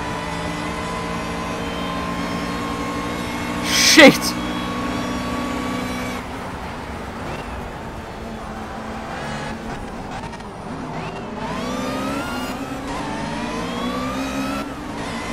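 Race cars in Project CARS roar past at close range, their mid-pitched engines revving and rising as faster cars close in from behind, with a sharp burst partway through and an excited shout from the player over the engine noise.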